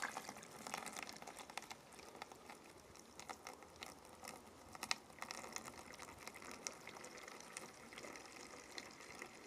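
Rainwater poured from a jug into a gravity water filter, a soft continuous trickle and splash with irregular drips and gurgles, fairly faint and close, with no talking.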